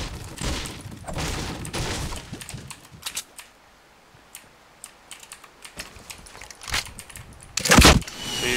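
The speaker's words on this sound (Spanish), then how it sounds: "Estoy disparando yo random" Rapid bursts of gunfire in the video game Fortnite, with sharp clustered shots coming in spurts separated by quieter gaps and a loud burst near the end.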